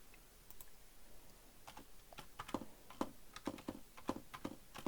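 Someone types a password on a computer keyboard, a run of fast, irregular key clicks that grows denser and louder toward the end, close by with no talk.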